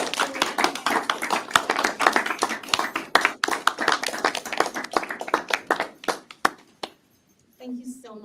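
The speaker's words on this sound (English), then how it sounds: "Please keep clapping while they go to your seats." An audience at a conference claps enthusiastically in a dense burst of applause that thins out and stops, followed by brief talking.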